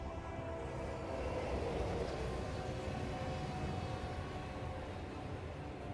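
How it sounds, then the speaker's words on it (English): A train launches in the video game Warhammer 40,000: Space Marine 2, a loud, dense rumbling roar that swells a little and holds steady for about six seconds with no voices over it. "Launch the train!"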